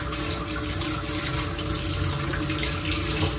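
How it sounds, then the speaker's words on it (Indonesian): Running tap water rinsing pork intestines in a sink before boiling, a loud continuous splashing stream that holds steady throughout with no talk. "Cara dia dengan kita lalukan air, masukkan air macam ni."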